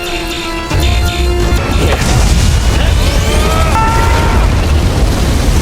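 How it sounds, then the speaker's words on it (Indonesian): A bomb blast destroying a villain's base in an action film, a loud sustained roaring crash with rumbling debris and crackling, layered with dramatic music tones. "Jack beserta yang lainnya termasuk Iron berhasil melarikan diri dari markas tepat saat bom meledak dan menghancurkan markas."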